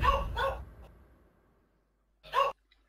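A dog barks a few times at close range, two quick barks followed after a pause by a single sharper bark, in an otherwise quiet room.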